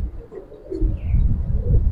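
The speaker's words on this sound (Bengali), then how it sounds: "দেখেন দুইটা কবুতর দেখেন" Two pigeons of the Palla-line Giribaz breed, a male and a female, coo at close range from a loft, the low soft cooing coming in repeated rounded pulses over a steady murmur, with no talking.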